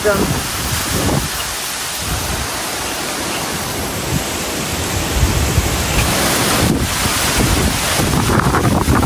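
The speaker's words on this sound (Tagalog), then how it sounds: "Grabe po, lakas pa rin po ng hangin hanggang ngayon." Strong wind blows hard across a fish pond and its choppy water, a loud continuous roar that buffets the microphone. A voice speaks now and then under the gusts.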